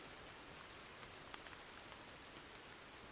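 Rain falls during a thunderstorm in the video game Sons of the Forest, a steady, even hiss of drops hitting surfaces, fairly faint and continuous with no talk.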